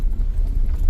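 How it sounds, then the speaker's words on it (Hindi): Horse hooves clip-clopping at a mountain-top parking area near Chakrata, a short steady patter of steps under low rumbling background noise, no talking. "यहाँ पे घोड़े वोड़े भी हैं"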